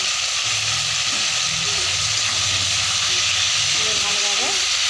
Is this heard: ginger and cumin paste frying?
yes